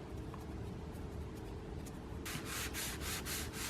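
Soft, steady rubbing of gilding wax onto a vintage bronze object, a faint continuous scrubbing that grows brighter and rasps in quick repeated strokes toward the end.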